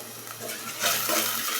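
Dal being stir-fried bhuna-style on a double-burner stove, a soft steady sizzle with faint stirring scrapes, growing a little louder partway through, with no talking.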